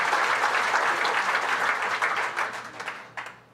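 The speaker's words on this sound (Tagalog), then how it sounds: "pakiusap ko lang, lakasan niyong palakpak" Audience applause at a government MOA signing ceremony for the Pantawid Pamilyang Pilipino Program, greeting the Senate Finance Committee chairman; a dense clapping wash that holds steady, then thins into a few scattered claps and fades.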